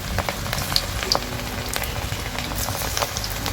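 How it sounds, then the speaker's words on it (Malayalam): Cauliflower florets for restaurant-style Gobi 65 fry in oil kept on lower heat, giving a continuous close bubbling sizzle dotted with small pops and crackles. "നമ്മൾ കോളിഫ്ലവർ എണ്ണയിലേക്ക് ഇട്ട ഉടനെ തന്നെ ആരും ഇളക്കി കൊടുക്കരുത്"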